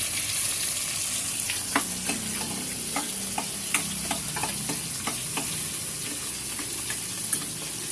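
Garlic and aromatics sauté in a hot pan for pesang kulapo beside frying bisugo fish, a steady close sizzle and hiss broken by intermittent clicks and taps of stirring utensils.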